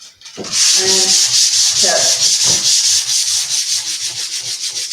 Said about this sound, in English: So that's hand sanding.